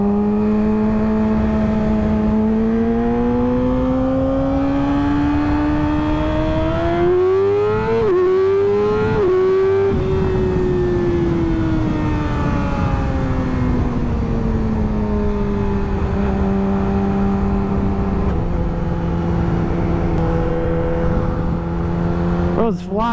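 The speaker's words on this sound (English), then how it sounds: "I'd be forgetting how loud this bike actually is" Yamaha R6 sport motorcycle with a full aftermarket exhaust system, ridden at night through a residential area, holding a loud steady engine drone that climbs and dips with throttle changes through the whole stretch, close to the microphone.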